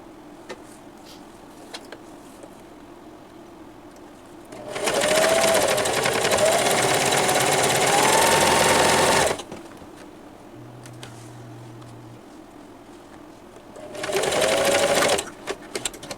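An electric sewing machine stitches purse lining fabric in two bursts, a long run of about five seconds and a shorter one near the end, loud and close, with quiet pauses between.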